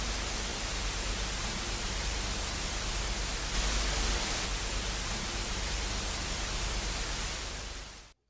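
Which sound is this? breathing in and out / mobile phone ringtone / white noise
white noise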